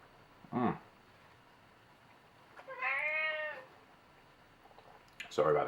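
A house cat gives two or three short meows, spaced apart and fairly close, in a quiet room. The last one overlaps a burst of other sound near the end.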